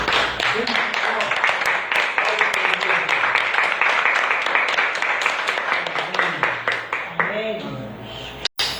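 A church congregation bursts into sustained, dense clapping that fills the room for several seconds and then thins out near the end.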